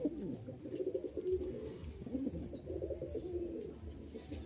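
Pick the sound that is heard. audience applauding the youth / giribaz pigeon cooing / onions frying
giribaz pigeon cooing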